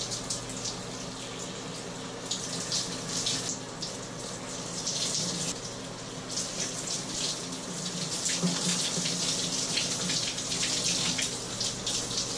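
A shower runs steadily while dreadlocks are washed, a continuous close hiss of falling water with slight splashing variations, no talk.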